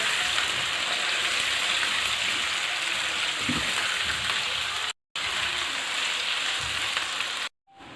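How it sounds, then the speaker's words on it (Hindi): Chicken pieces frying in oil in a karahi for an achari chicken dish, giving a steady dense sizzle and crackle throughout, close and continuous, with two brief cuts to silence. "बस इस चिकन को अब हम फ्राई करेंगे 4-5 मिनट के लिए ऑयल के अंदर"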